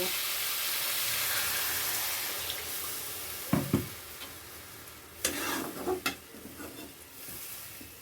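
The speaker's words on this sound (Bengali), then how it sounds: "মশলাটা কষানো হয়ে গেছে এবার জল দিয়ে দেবো" Water going into a pan of fried spice paste for potatoes, a soft steady sizzle with a few loud splashing bursts and clinks partway through.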